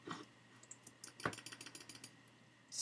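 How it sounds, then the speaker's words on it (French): Faint computer keyboard and mouse clicks from a Mac player during a Skywars game on Hypixel, a quick run of soft, evenly spaced taps close by. "Si vous entendez un petit peu mon son de clavier, enfin de souris et de clavier, c'est un peu normal."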